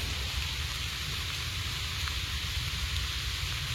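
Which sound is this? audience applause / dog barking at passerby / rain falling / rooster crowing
rain falling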